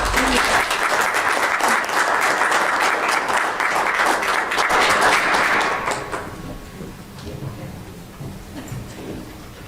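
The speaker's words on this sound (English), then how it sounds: "Let's give Lacey a round of applause." Applause fills a county commission meeting room for about six seconds, steady and fairly loud, then dies away into quiet room noise.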